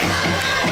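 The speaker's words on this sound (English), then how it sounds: "A really good crowd here tonight too, Mr. Russell." Crowd noise from full stands at a night high school varsity football home opener blackout game, a steady broad roar of cheering and shouting with no talk over it.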